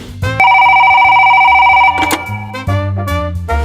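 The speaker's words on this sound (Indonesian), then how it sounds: "Kita coba telepon Kalista aja yuk." A telephone rings while a call is placed, a loud electronic ring tone holding steady for about a second and a half before breaking into shorter bursts and clicks.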